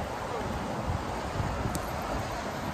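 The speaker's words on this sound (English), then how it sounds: "it's very windy outside." Strong wind blows outdoors near a party, buffeting the microphone in a steady, loud rush of noise with no clear voices over it.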